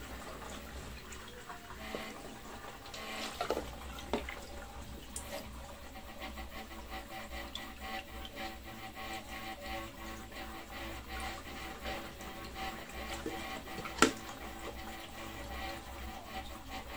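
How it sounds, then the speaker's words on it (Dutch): A faint, steady mechanical hum and whir from a 3D printer running in the background, with small clicks and ticks scattered throughout. "Op de achtergrond hoorde je mijn 3D-printer"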